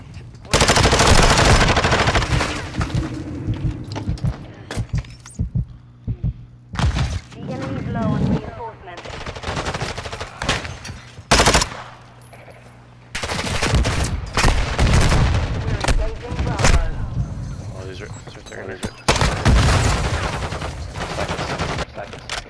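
Gunfire in a ranked online match of Call of Duty Modern Warfare 2: repeated bursts of automatic fire and sharp single shots in uneven clusters, loud and close, with players talking between and over them.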